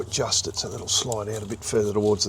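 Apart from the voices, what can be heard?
No everyday noises stand out.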